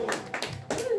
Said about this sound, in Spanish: el aplauso bien bonito que se escucha para nuestra cumpleañera